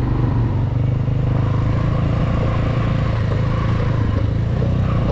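A motorcycle carrying two riders climbs a mountain road near a village, its engine a steady, loud rumble mixed with wind noise and no talk.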